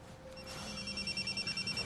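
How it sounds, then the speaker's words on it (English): A telephone rings in a rapid, evenly pulsing trill that builds up and keeps repeating at moderate volume, with no voices over it. "The phone, sorry."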